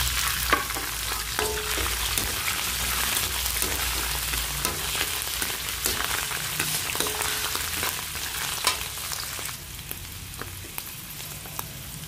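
Mushrooms fry in a pan over browned garlic, giving a steady, close sizzle with soft clicks and scrapes of stirring throughout, and no voices.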